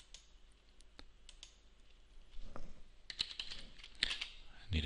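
Keys on a computer keyboard are tapped in short irregular bursts, faint and close, rising to quicker clusters toward the end as a password is entered, with no talk over it.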